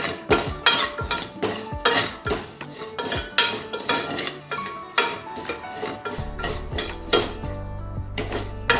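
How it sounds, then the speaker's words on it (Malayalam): Roasted vermicelli being heated and stirred in melted ghee in a pan for jaggery payasam; repeated close metal spoon scrapes and clinks against the pan in a steady rhythm, with no talk. "കുറച്ച് നെയ്യ് ഒഴിച്ചു കൊടുത്തിട്ട് നമുക്ക് സേമിയ ഒന്ന് ചൂടാക്കിയെടുക്കാം."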